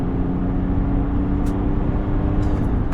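A 2025 GMC Sierra 1500 Elevation Premium pickup accelerating, heard from inside the cab as a steady, fairly loud low engine and road rumble that holds evenly throughout, with no talking.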